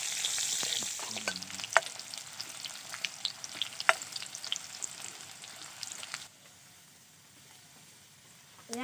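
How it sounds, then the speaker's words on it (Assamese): Onions frying in oil for an Assamese-style small fish curry, a close crackling sizzle broken by stirring clicks and scrapes for about six seconds, then dropping to near silence. "পিঁয়াজখিনি ভালদৰে ভাজি লওঁ।"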